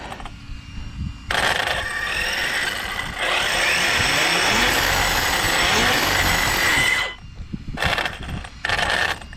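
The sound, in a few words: Yikong DF7 motor revving up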